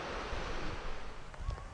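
High river water rushing steadily along a trail near Cherry Run Flats, a continuous broadband roar with no pauses, moderately close and unbroken by any voice.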